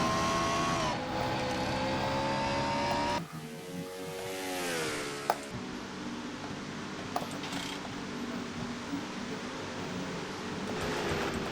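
Onboard engine of a NASCAR-style race car in a racing video game, a steady loud drone whose pitch climbs through gear changes and holds high, with a couple of sharp clicks mid-run and no talk.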